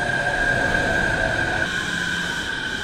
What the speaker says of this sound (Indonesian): keretaku datang